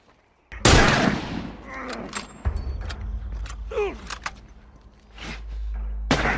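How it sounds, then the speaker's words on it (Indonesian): Gunfire in The Last of Us, with a loud initial shot followed by scattered distant cracks, mechanical clatter and rumbling ambience over several seconds, no clear speech. "Fuck is that sniper?"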